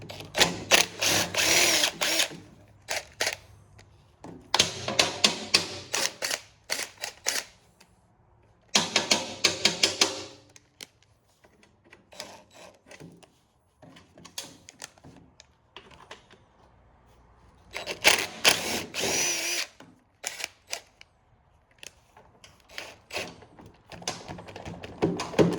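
A power tool whirs in short, loud bursts of a few seconds each while undoing bolts on a bracket in a workshop, with quieter clicks and handling sounds in the pauses between runs.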